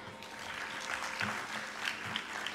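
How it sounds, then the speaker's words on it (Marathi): Audience clapping at a Bharatanatyam arangetram dance debut, a steady burst of applause from a seated crowd, moderately loud and continuous. "तेव्हा या सगळ्यांसाठी टाळ्या"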